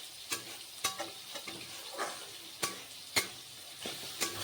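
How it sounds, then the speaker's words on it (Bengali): Spice paste fries in a pan for a cauliflower, potato and rohu fish curry, a low steady sizzle broken by a few sharp scraping stirs of a spatula, close and quiet, no talking. "মশলাটা বেশ ভাজা হয়ে গেছে"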